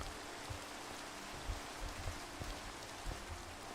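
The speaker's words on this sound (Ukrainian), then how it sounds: "почав дощ падати, хвала Богу" Steady rain falls in Minecraft, a dense and even hiss with soft patter throughout and no voices.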